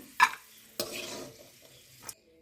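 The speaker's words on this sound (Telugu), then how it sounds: "దీంట్లోనే ఒక 2 టేబుల్ స్పూన్ల వరకు కిస్మిస్ని కూడా వేసేసి మరి కాసేపు ఫ్రై చేసేయాలి" Raisins frying in ghee in a pan, with a few sharp stirring scrapes and brief bursts of sizzle over a quiet background.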